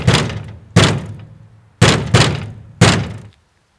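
A door is pounded hard with a fist: four or five heavy, close thuds in an uneven rhythm, each a loud blunt knock, then silence.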